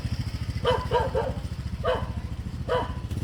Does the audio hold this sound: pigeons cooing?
no